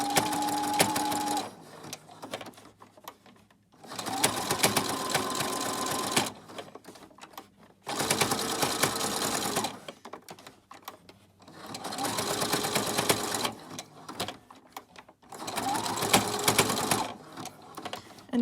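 A sewing machine stitches a coaster made from coiled fabric scrap twine, running in long steady whirring bursts separated by short pauses, close and clear.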